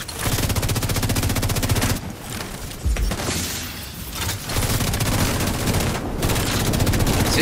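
Sustained automatic gunfire from The Division 2 during a Dark Zone PvP fight, dense rapid bursts nearly continuous with brief pauses and a heavier thump midway, loud and close.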